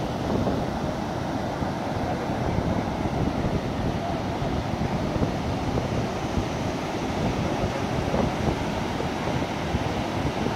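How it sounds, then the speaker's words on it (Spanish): Strong surf pounds the shore at Barra de Santiago, a steady loud roar of breaking waves mixed with heavy wind buffeting the microphone throughout, with no distinct single crash standing out. "vamos a tratar de captar una ola de lo más fuerte"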